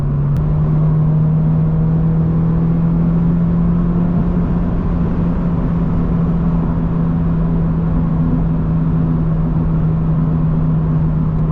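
Subaru BRZ tS driving with the windows up, heard from inside the cabin as a constant low engine drone with a steady hum and road noise, loud and unbroken throughout.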